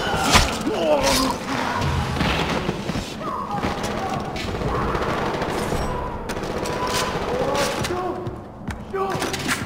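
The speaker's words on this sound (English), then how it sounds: "Enemy located! Gunfire! Gunfire!" Bursts of rapid gunfire in Far Cry 4 crackle and thud under loud, overlapping shouting voices, with sharp impacts scattered throughout.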